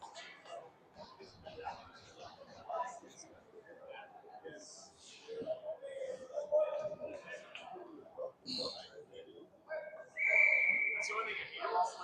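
Crowd noise and commentary at an ice hockey game between Shakopee and Mankato, with a sharp, loud referee whistle blast near the end over talk and arena sounds.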